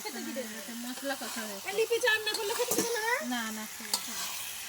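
Meat dropped into a pan of fried spice paste, frying and being stirred with a steady hiss and scraping clatter, under music-like tonal sounds with no clear speech.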